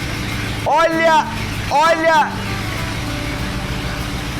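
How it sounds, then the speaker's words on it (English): A 1922 flathead engine idles in a garage with a steady low rumble, while a voice briefly speaks twice over it. "a braveza desse motor."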